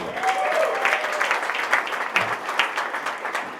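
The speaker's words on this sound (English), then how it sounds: "let's just give Wayne a round of applause for his servant leadership." Audience at a banking technology accelerator event giving a round of applause, a full, even clatter of many hands at close range that stays steady for several seconds.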